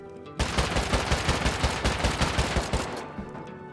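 A continuous, dense burst of rapid automatic gunfire with explosive ammo in the video game Rust, loud and close, lasting about two and a half seconds before it cuts off.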